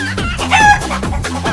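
A chicken gives a short run of close, loud clucks in a quick, uneven rhythm.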